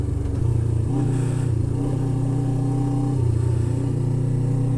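A motorcycle engine drones steadily while riding over rocky ground, loud and close, with slight shifts in pitch as the throttle changes and wind noise throughout.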